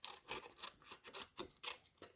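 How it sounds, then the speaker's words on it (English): Scissors snipping through paper while making a shaker card, a quick series of about eight crisp cuts at an even rhythm, close and quiet, with no talking. "I'm just going to cut this piece over here"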